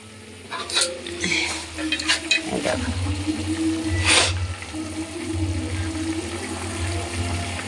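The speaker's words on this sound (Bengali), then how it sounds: "এখন দেখো ফুটে উঠেছে।" A sweet dish boiling in a covered pot, mixed with stirring scrapes and sizzling; a close, moderate bubbling hiss runs throughout with a few sharper clinks of the utensil against the pot.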